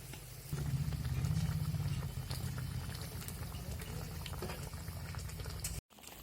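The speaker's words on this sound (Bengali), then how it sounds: "ঝোলটা ফুটে উঠেছে" Fish curry gravy with tomato boils steadily in a pot, a loud, continuous bubbling that is close and alone, with a brief break near the end.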